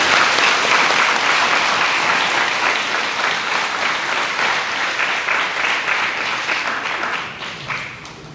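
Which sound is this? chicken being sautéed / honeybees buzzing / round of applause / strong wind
round of applause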